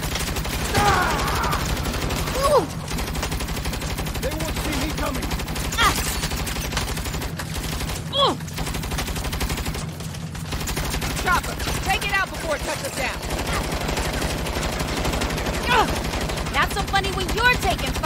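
Repeated bursts of gunfire in the Saints Row video game, sharp cracks and rattling volleys running throughout under voices.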